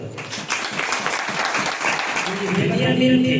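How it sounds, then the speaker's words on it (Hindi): A church congregation at a Sunday holy communion meeting claps hands in a quick burst of many overlapping claps. Near the end, sustained tones from voices or an instrument come in under the fading applause. "तालियां बजाओ।"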